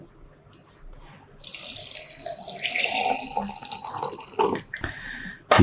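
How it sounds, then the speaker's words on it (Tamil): Water running from a tap into a container for a mint and coriander herbal tea, a soft drip first, then a strong rushing stream that rises in pitch as the vessel fills and stops abruptly. "இப்போ நான் தண்ணி ஊற்றிருக்கேன்."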